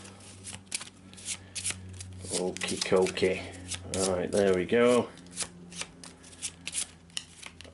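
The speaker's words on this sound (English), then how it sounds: "Let's give these a shuffle." A deck of cards for the Eldritch Horror board game is shuffled by hand, giving repeated papery riffles and rubbing bursts close by, with a person talking briefly.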